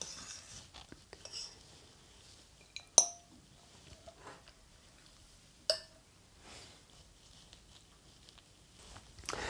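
Sauerkraut served from a pot onto a plate, with two sharp, faint clinks of a utensil against the dish in an otherwise quiet kitchen and a light rustle at the end.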